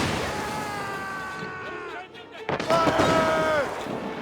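Ship cannons fire in Assassin's Creed Rogue during a naval battle with booming blasts and crackling bursts. A sharp salvo breaks in midway. Voices shout orders over the din.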